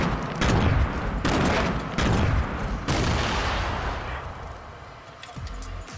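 Heavy bursts of gunfire in the video game Fortnite, several loud overlapping volleys in quick succession over the first three seconds, then thinning into scattered shots and rumble.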